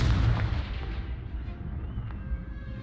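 A Confringo spell bursts in Hogwarts Legacy, a loud fiery blast up front that decays over a few seconds into crackling debris and faint rumble, with no talking.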